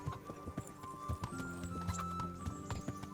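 Horse hooves clip-clop at a riding pace in the video game Kingdom Come: Deliverance, a run of fairly close, rhythmic hoofbeats over a background of game music with steady tones.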